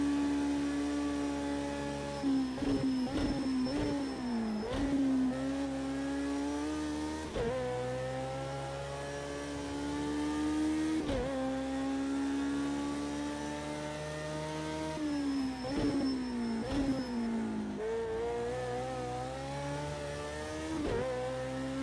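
A BAC Mono race car with a damaged engine, lapping Bathurst in Project Cars 2, revs hard in a steady buzzing drone that climbs and drops with repeated gear shifts, loud and continuous with no talk.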